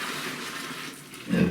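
Hot water running from a tap during a power outage, a steady hiss of flowing water that swells slightly louder toward the end, with no talk over it.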